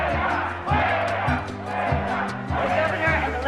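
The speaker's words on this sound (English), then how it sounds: "the crowd's chants could be heard very loud and clear" A large crowd of strikers chants in rhythmic, repeated phrases outside the Capitol building in Sacramento, loud and steady with regular pulses, a voice rising above the crowd at times.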